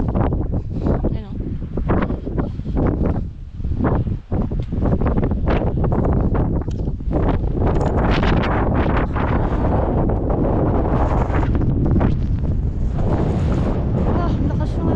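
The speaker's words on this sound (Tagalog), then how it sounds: "lakas ng hangin" Strong wind buffets the microphone on the Mt. Pulag mountain trail, a loud continuous roaring rumble with gusty surges throughout, while people talk faintly underneath.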